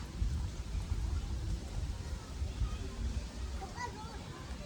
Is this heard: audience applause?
no